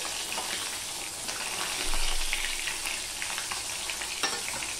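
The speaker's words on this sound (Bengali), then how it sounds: "দেখো বন্ধুরা মাছগুলো সব আমার ভাজা হয়ে যাচ্ছে" Batta fish frying in oil in a pan, a dense continuous sizzle and crackle close by with a brief stirring or shifting sound midway, no voices.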